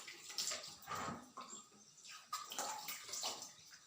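Water runs from a tap while hands are washed, a soft, faint splashing and gurgling stream that rises and falls over a few seconds with no talking.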